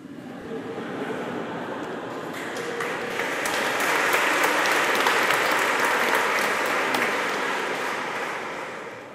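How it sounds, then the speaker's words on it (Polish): Audience applause at a church gathering in Łódź, dense clapping that swells in the middle and stays steady to the end, no talk over it. "Jeszcze klaszczecie, bo nie wiecie, do czego dojdziemy."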